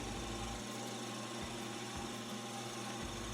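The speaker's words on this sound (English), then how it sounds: "And just slowly work the drill bit into the material." A metal lathe runs as a tailstock drill bit slowly bores into a spinning metal follower block, giving a steady mechanical hum with soft rhythmic thumps repeating about twice a second, no voices.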